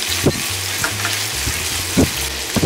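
Scallion, ginger and garlic stir-fried in hot salad oil sizzle steadily and close, with a few scraping stirs of the spatula breaking through the continuous frying hiss.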